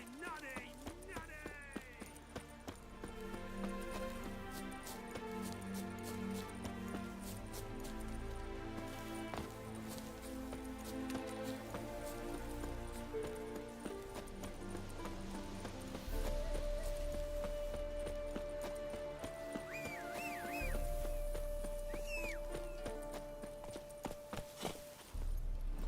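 Horse hooves clip-clopping in Witcher 3, a soft regular patter heard faintly beneath music and voices.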